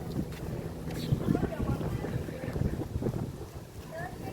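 Cold wind gusting by the water at a beach where children wade in after rain, a steady broadband rush buffeting the microphone throughout, with faint distant voices underneath.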